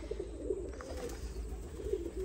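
Golden pigeons coo in soft, repeated low calls close by, a steady murmuring of a pair with no talk over it.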